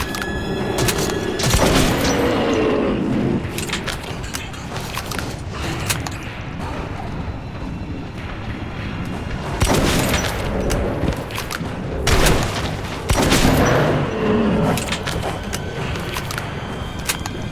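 Shotgun gunfire in Metro 2033 Redux, heard as a run of loud, booming blasts with irregular gaps over a busy, dense game soundscape, a cluster near the start and several more in the second half.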